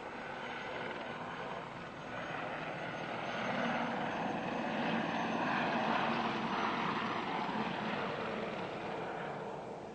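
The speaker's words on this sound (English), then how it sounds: "as the bulldog comes in on short finals to land" An RAF Bulldog training aircraft on short final to land, its piston engine and propeller giving a steady, loud droning roar that swells slightly toward the middle.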